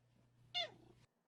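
A single cat meow, short and clear, close to the listener with a faint low hum under it and no talk.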